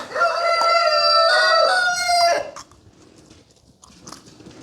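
A rooster crows loudly with a long, harmonic call lasting over two seconds, then quieter barnyard rustling and faint clucks follow.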